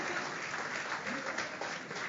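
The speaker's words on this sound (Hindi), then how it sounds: "जोरदार तालियां।" Audience applause at a film song launch and first-look event, a steady wash of clapping lasting a couple of seconds, fairly even and moderately loud with a faint trace of voices underneath.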